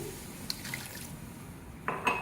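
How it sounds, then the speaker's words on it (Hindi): Two cups of water are poured into a cooking pot holding onion-tomato purée and garlic-ginger paste for mutton with bottle gourd. The splash and trickle are quiet and soft, with a slightly brighter burst near the end. "अब पानी शामिल करेंगे, 2 कप पानी शामिल करेंगे।"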